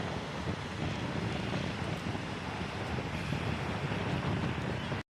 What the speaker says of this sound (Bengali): ওয়াও, ঢেউয়ের শব্দ শোনা যাচ্ছে